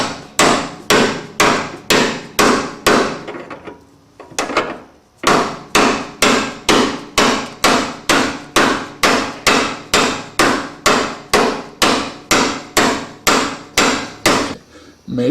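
A hammer taps a 32mm deep socket onto a BMW E46 subframe bushing in a steady run of sharp, loud metallic strikes at roughly two per second, with a brief pause near the middle before the even rhythm resumes.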